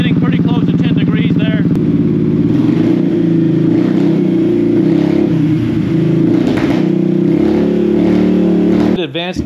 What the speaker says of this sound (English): starting to sound like a real motorcycle.